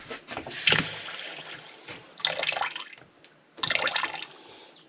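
Water gushes and splutters from a caravan water system after the pump is switched off, coming in three bursts of splashing flow that die back to a trickle between them, close by.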